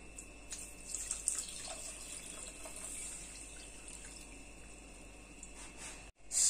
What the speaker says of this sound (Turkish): 4 su bardağı suyumuzu döküyoruz.